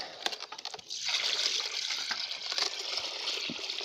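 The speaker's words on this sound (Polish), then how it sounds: "Teraz wylejemy tą wodę." Water poured out of a bucket after sieving during gold panning, a steady splashing gush that starts about a second in and runs continuously, loud and close, after a few brief clinks.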